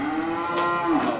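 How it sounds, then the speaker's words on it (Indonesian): An Aceh cow lets out a single drawn-out moo, fairly close and steady, rising slightly near the end, heard alone at a cattle market. "Ya, mantap, sapi Aceh"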